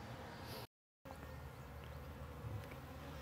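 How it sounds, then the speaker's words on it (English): A dense, steady buzzing of a honeybee swarm, a continuous droning hum with a brief gap of silence near the start. "I like to investigate it with a real swarm,"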